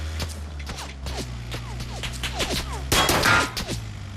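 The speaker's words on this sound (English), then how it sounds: "They're just shooting me because I stopped." PUBG gunfire cracks out in rapid bursts of shots, several sharp reports in quick succession with a heavier cluster of fire near the end, over a low engine-like hum.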